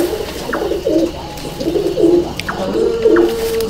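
Pigeons in a loft kept by a pigeon fancier, several soft low coos repeating in short rhythmic phrases close by, with faint chirps and room ambience between them.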